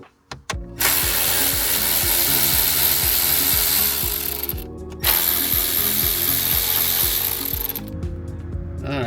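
A hand ratchet backs out 7mm bolts from a truck radio in a Chevy Silverado or GMC Sierra dash, with close, loud runs of rapid clicking in two long bursts separated by brief pauses.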